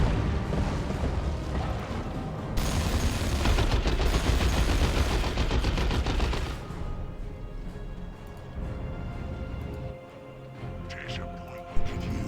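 Sustained gunfire and explosions from the Dawn of War 2 Elite mod strategy game, dense rapid rattling bursts with booms, loud and continuous before easing into lighter battle noise.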